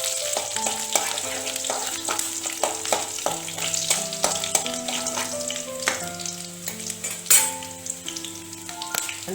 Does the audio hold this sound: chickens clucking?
no